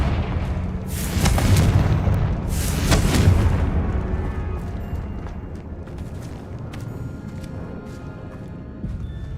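Confringo blasting-spell explosions in the video game Hogwarts Legacy on PS5 land as two heavy, rumbling booms close together, then fade into a sustained low roar with no talking.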